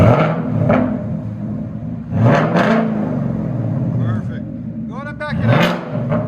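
Ford Mustang GT 5.0 V8 with an aftermarket exhaust revs in a few quick bursts separated by idle rumble, loud and close, with people talking over and between the revs.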